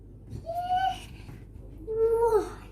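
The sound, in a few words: child imitating a bird's call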